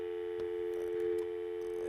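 A steady telephone busy tone pulses on after a caller hangs up during a college football call-in show, a loud continuous electronic hum with faint clicks and a little background noise.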